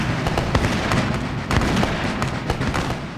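Musket volleys crack out in rapid, ragged bursts of sharp gunfire, several loud reports overlapping amid a continuous smoky battlefield din, with no voices.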